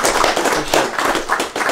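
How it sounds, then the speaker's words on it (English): Round of applause from an audience at a bass fishing seminar, a brief dense patter of hands clapping, fairly close and steady with no talk over it. "Let's give him a round of applause."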